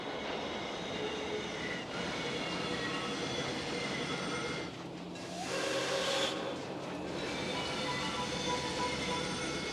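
Park train ride in the video game Planet Coaster 2, a steady rumbling rolling train with hiss and wheel noise, and a louder whistle-like burst midway, no speech.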